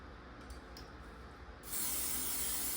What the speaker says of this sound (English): we're gonna spray it with some holding spray, still using the olive oil spray